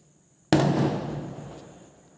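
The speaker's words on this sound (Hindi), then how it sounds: "आपको पटाखे की आवाज़ आ रही है तो आप पटाखे का आवाज़ को इग्नोर कीजिएगा" A single firecracker bursts outside with a sudden loud bang, followed by a rumbling, slowly fading tail lasting over a second.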